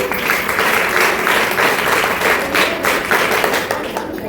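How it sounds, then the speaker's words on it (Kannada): A lecture audience breaks into loud, dense applause for Sunita Williams, a sustained close wash of many hands clapping with faint rhythmic surges and no speech over it. "ಒಂದ್ಸಲ ಚಪ್ಪಾಳೆ ಆಗಿ ಅವರಿಗಾಗಿ"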